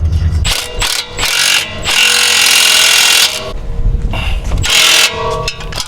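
An impact wrench hammers a nut during a wheel install on a BMW F80 M3/M4, giving loud close bursts of rattling impacts with short pauses between them.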